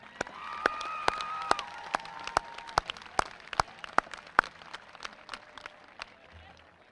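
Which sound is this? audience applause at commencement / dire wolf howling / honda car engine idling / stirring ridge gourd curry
audience applause at commencement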